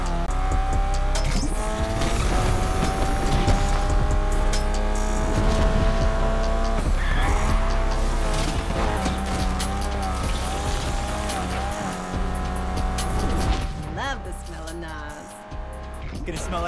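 Race car engines in the video game Need for Speed Unbound roar continuously with squealing tires and revving pitch shifts, loud and busy throughout.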